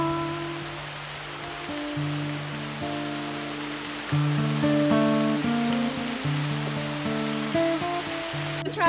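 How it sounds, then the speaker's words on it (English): Rain falls outdoors as a soft, steady hiss throughout, with a sequence of clear tonal notes sounding over it. "Actually, it is raining."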